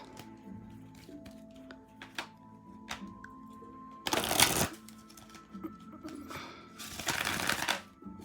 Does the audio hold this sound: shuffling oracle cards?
yes